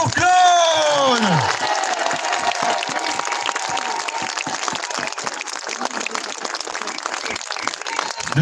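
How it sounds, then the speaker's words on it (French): Crowd applause at a farmers' protest rally on the Champ de Mars, dense clapping and cheering filling the air after a shouted announcement through a loudspeaker at the start, sustained and fairly loud throughout. "Un immense applaudissement pour Claude!"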